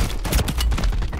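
The MTZ-762 rifle in Modern Warfare 3 Warzone fires a fast, loud, close burst of rapid shots with no talking.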